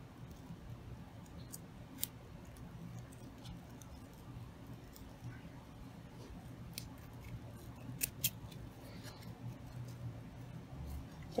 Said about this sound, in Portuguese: Só cortar a pontinha da minha linha aqui para ela não ficar aparecendo.